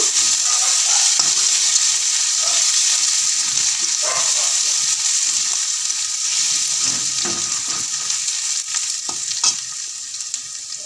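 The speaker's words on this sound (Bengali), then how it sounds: "এক চামচ আদা দিলাম" A spoonful of ginger fries in a hot pan of oil with garlic and cumin for a broccoli curry, giving a continuous loud sizzle broken by scraping and stirring sounds from a utensil.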